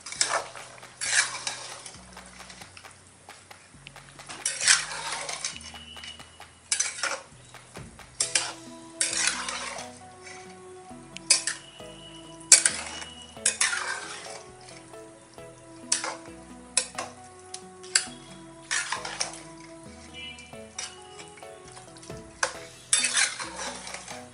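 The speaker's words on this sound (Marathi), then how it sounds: "आपण याला चांगलं मिक्स करून घेऊया." A spoon stirs soaked basmati rice into a boiling pot of mutton biryani, giving repeated scraping and clinking strokes against the metal pot over a low simmering bubble, uneven in rhythm, close and alone without talk.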